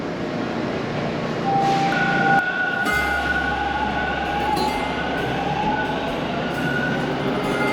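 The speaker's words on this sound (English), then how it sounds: "off the subway at the Pape station" A Toronto subway train rumbles along steadily, with a low drone, rising whine and occasional metallic clinks and rattles, loud and continuous.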